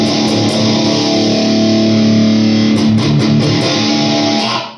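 Electric guitar played through a Caline Tigershark distortion pedal with the distortion knob turned all the way down, giving a sustained, loud, dense tone that rings steadily and then fades out at the end, with no voices.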